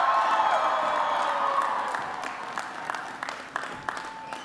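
At a March for Life rally, a crowd applauds to welcome House Speaker Mike Johnson, loud dense clapping that gradually thins and fades into scattered claps.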